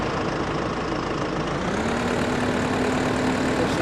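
The small tractor engine in the video game Farm Simulator 15 runs at a low, steady idle, then its pitch rises slightly and holds as it revs up.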